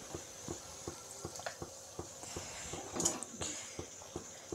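Mutton masala gravy stirred in a pan, a spoon scraping in a quick, regular rhythm of soft clicks over a faint simmer, quiet and close with no talking.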